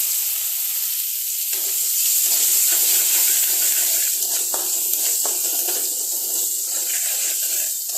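Sliced onions fry lightly in hot oil, giving a steady, close sizzle with bright hissing crackle that holds evenly throughout, with a few soft clicks of stirring and no voices.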